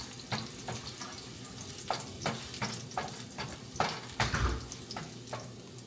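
Garlic frying in hot oil for noodles, a steady sizzle broken by repeated rhythmic scrapes and stirring clatters of a spatula in the pan, close and clear.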